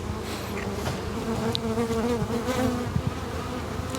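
Honeybees buzz around an open hive in a beekeeping yard, a dense continuous drone close by, with individual bees swelling past now and then.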